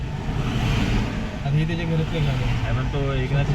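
Cars of the Maharashtra Chief Minister's convoy rumble past on a road in a steady, close stream, with engine and tyre noise continuous throughout and voices talking over it.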